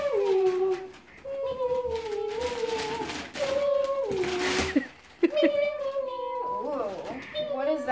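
A toy cat meows in a high, wavering electronic voice, repeating several times over a cluttered background.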